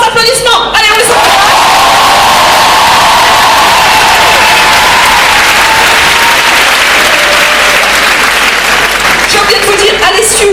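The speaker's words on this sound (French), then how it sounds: "Après, vos grands applaudissements. Allez, on les entend." Audience at a 2014 KRIB improv show breaks into big applause, loud sustained clapping mixed with whoops and cheers, beginning and ending with a voice over the crowd.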